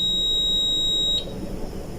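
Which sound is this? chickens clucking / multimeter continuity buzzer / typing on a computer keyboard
multimeter continuity buzzer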